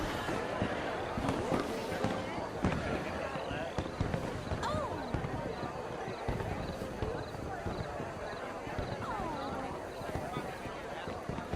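Fireworks pop and crackle at a distance in irregular bursts, running under a continuous murmur of voices and background activity.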